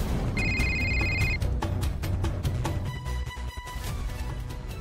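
A telephone rings repeatedly with bright electronic tones over a busy, noisy background, going unanswered through the whole stretch.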